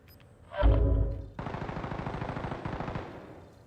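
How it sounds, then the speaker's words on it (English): Gunfire in the video game Call of Duty Warzone: a heavy blast followed by a sustained rapid machine-gun burst of evenly spaced shots, loud and close, with no talking. "I think he's just trying to shoot me"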